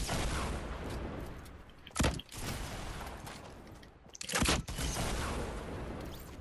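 Gunfire in Fortnite Battle Royale at Dusty Depot, dense crackling fire with two sharp, loud bursts standing out above the continuous battle noise.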